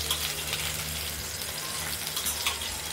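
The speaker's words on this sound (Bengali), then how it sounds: "বড়িটা লাল করে তুলে নেবো ভেজে" Bori, small lentil dumplings, frying in oil until they turn red, giving a steady, even sizzle with a faint low hum underneath and no talking.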